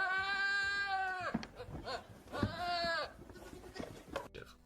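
A goat bleats twice in long, wavering, nasal cries close by, with a voice speaking quietly between and after the calls.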